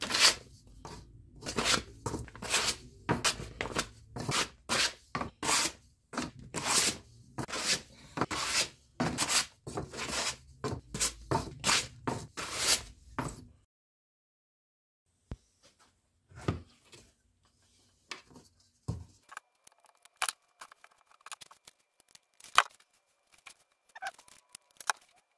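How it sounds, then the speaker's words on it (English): Hand sanding along the edges of pieces for a homemade pool ball washer: quick, irregular rasping strokes for about thirteen seconds, then near silence broken by a few faint scratches and taps. "I'll give them a sanding on the edges."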